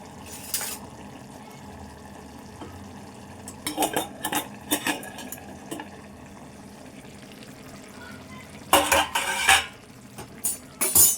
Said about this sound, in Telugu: ఇప్పుడు మెల్లగా కలుపుకుందాము.